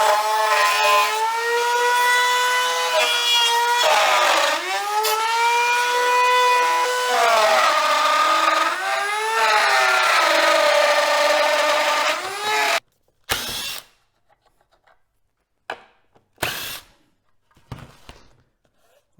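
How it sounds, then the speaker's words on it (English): A wood router runs loud and steady for about twelve seconds, its pitch dipping and recovering as it is worked back and forth along a screwed-on pattern, then it cuts off and leaves a few brief knocks and handling sounds. "I'm just going to take the router I've already started and work it back and forth a few times."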